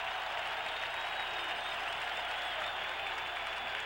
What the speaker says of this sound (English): The Packer crowd on its feet applauding the Green Bay defense.